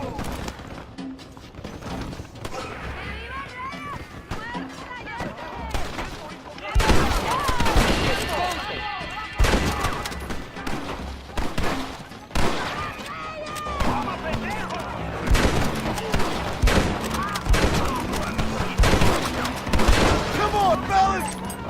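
Rapid gunfire from many guns during an assault on a fortified gate in the Western video game Red Dead Redemption, dense overlapping shots and booms that grow louder midway, with shouted voices mixed in.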